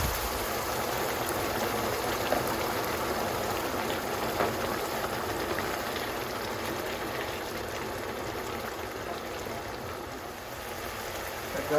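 Water is poured into a pancetta and tomato risotto, and a steady, even hiss of liquid sizzling and bubbling in the pan carries on throughout at a constant level.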